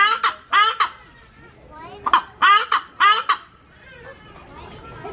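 An agitated bird at a zoo honks in loud, harsh bursts, about six close calls in quick irregular clusters separated by brief pauses.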